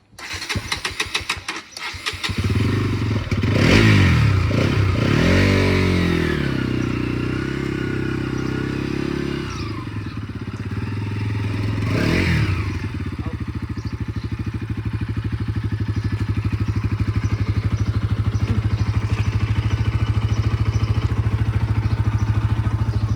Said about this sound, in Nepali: बाइक पनि स्टार्ट भयो।